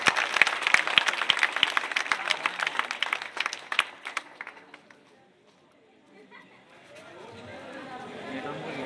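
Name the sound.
audience applause welcoming a performing team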